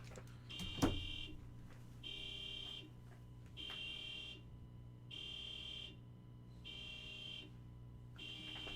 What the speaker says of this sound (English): For some reason, my car alarm just went off.